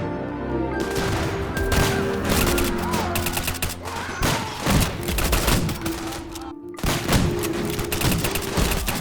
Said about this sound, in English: a few grenades and massive turrets and guns killed them off